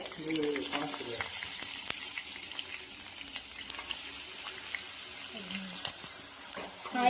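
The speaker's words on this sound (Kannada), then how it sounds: "ಈರುಳ್ಳಿ ಫ್ರೈ ಮಾಡ್ತಾ ಇದ್ದೀನಿ" Onions fry in a generous amount of oil with mustard seeds, curry leaves and green chillies for a capsicum palya, making a steady close sizzle with some stirring scrapes while a voice speaks at times.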